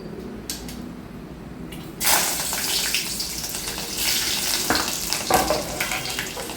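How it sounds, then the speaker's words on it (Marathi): Chopped garlic drops into heated oil over a low gas flame, bursting into a loud, steady hiss after a quiet start and crackling on with small pops. "तेल तापलेलं आहे. आता मी त्यामध्ये ॲड करणार आहे लसूण."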